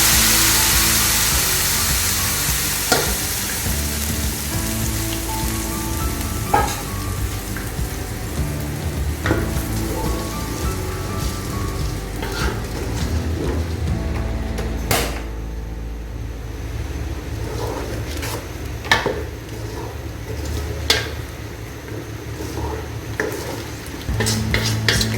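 Onion, ginger and garlic paste frying in a pan with cumin for a peanut spicy chicken, a steady sizzle under intermittent scraping and stirring clinks of a utensil against the pan, close up with no voices.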